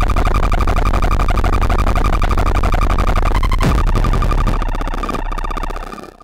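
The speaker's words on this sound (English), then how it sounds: "Now this is a drone synth." Drone noise synthesizer with several oscillators churns out a loud, harsh, sustained drone with buzzing tones, a sudden swooping sweep partway through, then thins and fades at the end.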